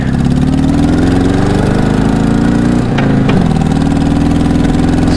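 Motorcycle engine, a blue project bike with forward controls, running steadily up close and loud, with a brief dip and surge near the middle as the rider shifts gears.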